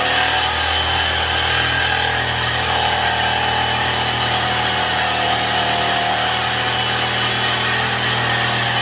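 A jigsaw cuts through wooden trim in a close, loud, unbroken buzzing drone that holds steady for the whole stretch, with no voices.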